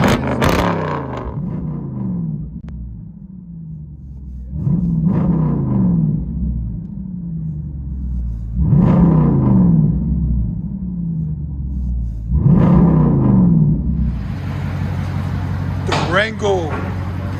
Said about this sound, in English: SRT 392 2021 Beast true dual straight pipe.